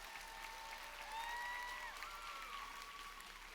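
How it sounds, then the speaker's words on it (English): A commencement audience applauds graduate Amber, the first graduate of a legacy scholars program, with steady, fairly faint broadband clapping filling the hall and a few voices and cheers drifting over it. "give her a big round of applause"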